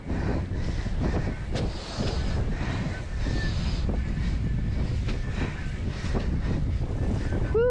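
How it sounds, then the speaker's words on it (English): Strong wind gusting across the microphone while paddling on open ocean swell during an outrigger race, a loud continuous roaring buffet with rushing water beneath and no speech. "that was a gust."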